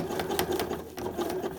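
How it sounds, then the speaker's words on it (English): A sewing machine runs steadily, close and loud, sewing a zigzag stitch onto elastic fabric. The motor hums continuously and the needle beats in a rapid, regular rhythm, with no voice over it. "just sewing the zigzag stitch, removing the pins as I go"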